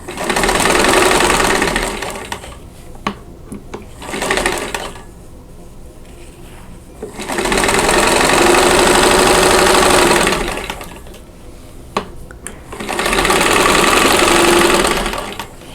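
A sewing machine stitches quilt blocks for a Posies & Diamonds quilt, running in three long, loud steady bursts separated by quieter pauses with small handling noises.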